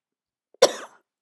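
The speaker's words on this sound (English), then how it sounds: "Sorry for the cough." A single short, sharp cough, close and alone in an otherwise quiet moment.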